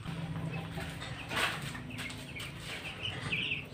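Young chicks in a coop bedded with rice hulls, scratching through the litter near a feeder and waterer: steady rustling and scratching close by, with scattered clucks, brief wing flutters and a few high peeps near the end, no talking.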